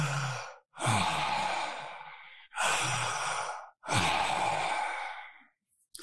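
Several long, deep breaths are drawn and let out one after another, each a loud airy rush lasting about a second and a half, separated by short silences and heard up close.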